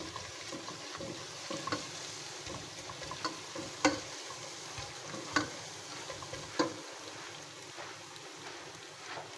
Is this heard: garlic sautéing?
yes